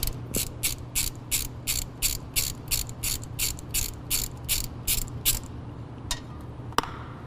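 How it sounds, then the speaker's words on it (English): A socket ratchet loosens the differential drain plug on a UTV, reached through a hole in the skid plate underneath. Roughly fifteen quick, evenly spaced bursts of clicking ring out close and clear, followed by a couple of sharp metallic taps, with no talking. "Get your socket on there, loosen the drain plug."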